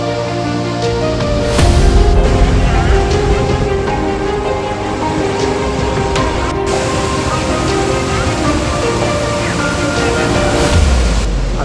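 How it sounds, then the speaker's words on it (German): A waterfall near the Chinese border in Vietnam, heard close up from a boat, gives a loud, continuous roar of rushing water with a low rumble and a faint tonal hum over it. "Das ist wirklich ein richtig schöner Wasserfall."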